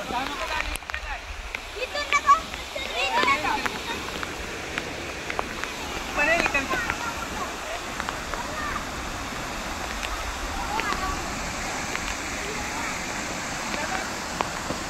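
Strong water rushing down from the hills near a river and weir, a steady broadband wash running throughout with a few brief louder splashes.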